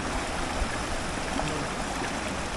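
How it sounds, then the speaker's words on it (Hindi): A fast-flowing stream rushes steadily in a loud, continuous wash of water noise with no pauses. "पानी की आवाज़ बढ़ गई"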